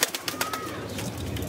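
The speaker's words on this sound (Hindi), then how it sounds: "ये तकीर भाई के प्रवासी कबूतर हैं सारे" Pravasi (parwazi) high-flying pigeons coo at a loft, a soft continuous mix of calls over a dense, noisy outdoor background.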